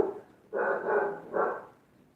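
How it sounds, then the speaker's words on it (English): A puppy barks with a deep, grown-dog voice, two strong barks close by, the first longer, with no talking. "Why that puppy sound like a grown dog?"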